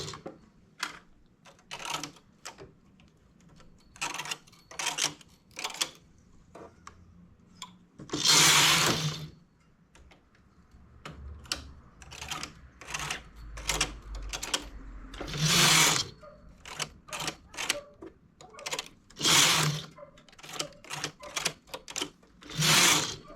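A knitting machine carriage runs back and forth knitting rows of a cuff or hem band at a lowered tension setting, giving repeated sharp mechanical whirring passes separated by short pauses, with a few longer, louder sweeps in between.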